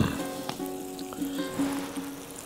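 Sausage and cracked eggs fry together in a pan at a campsite, giving a steady close sizzle with faint scraping as the mixture is stirred, no voices over it.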